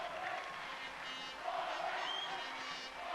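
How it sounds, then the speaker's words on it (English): A basketball crowd at the 1986 English play-off finals applauds a departing player with a steady, faint wash of clapping and murmuring crowd noise heard from a distance. "gives him an opportunity to leave and receive the applause of the crowd"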